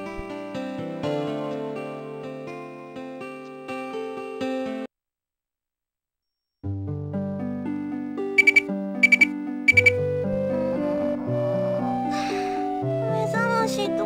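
An alarm clock rings in a Dreamcast visual novel, Kaitou Apricot, with bright repeated beeping bursts over background game music, following a brief silence.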